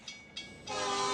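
A train in Back to the Future Part III comes in with two sharp bursts, then surges into a loud, sustained roar on the tracks that swells and holds to the end of the short moment.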